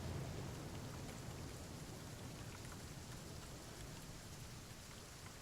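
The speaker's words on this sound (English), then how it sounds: "then it was just rain" Steady heavy rain in the video game The Flame in the Flood hisses in a continuous, even wash, fairly quiet overall with no voices or other distinct sounds.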